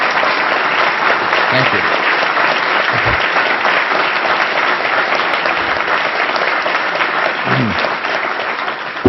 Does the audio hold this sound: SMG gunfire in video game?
no